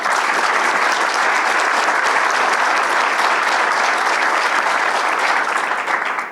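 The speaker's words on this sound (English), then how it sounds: "Let's give this panel a round of applause." Business alliance audience applauding a panel, a loud, dense, sustained wash of many hands clapping at once that stays level throughout and fades slightly at the very end.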